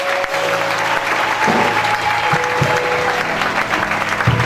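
A church congregation applauding and cheering, with dense sustained clapping close by and voices mixed in, loud and continuous throughout.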